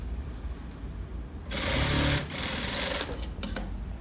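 A sewing machine runs in one close, steady burst of stitching on a blouse at a tailoring class, lasting about a second, with quieter handling noise before and after.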